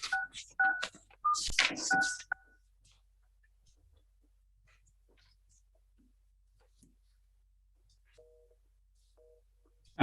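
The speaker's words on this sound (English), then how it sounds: "We're just calling her on the phone because there's been a technological issue with her." Telephone dialing tones on a call with a remote council participant, a short run of paired tones after a burst of clipped, loud sound at the start, then near silence with two faint beeps late in the clip.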